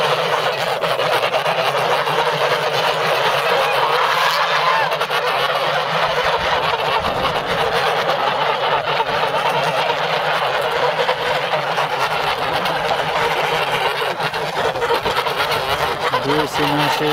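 Domestic geese in a vegetable garden keep up a dense, continuous chorus of honking and cackling close by, loud and unbroken throughout.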